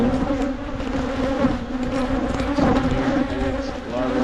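Honey bees buzz steadily over an open brood frame during a fall hive inspection, a dense close hum that swells and fades slightly and runs the whole time without pause.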